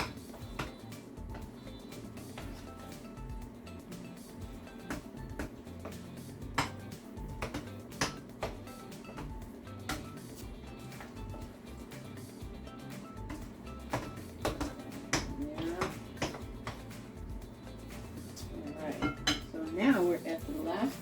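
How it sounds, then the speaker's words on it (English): Muffin batter for strawberry cream cheese muffins is stirred in a bowl, a continuous run of soft scraping with light clinks of a utensil against the bowl, close and fairly quiet. "I'm going to stir that in."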